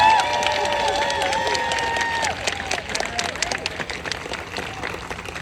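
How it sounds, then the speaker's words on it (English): An audience bursts into sustained clapping and cheering for new airmen at a basic trainee graduation ceremony at Lackland Air Force Base in San Antonio, Texas, with loud applause following a speaker's voice and then slowly thinning out. "Let's give them a round of applause."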